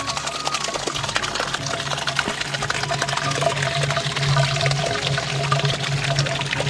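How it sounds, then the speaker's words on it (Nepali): Spring water flowing through a bamboo pipe outdoors, a continuous splashing trickle with a steady low hum and no voices. "औ यो नालाको पानी"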